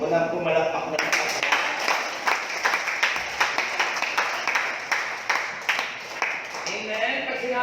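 A church congregation claps together in a steady, even rhythm, sharp repeated claps close and clear, while a voice talks over them.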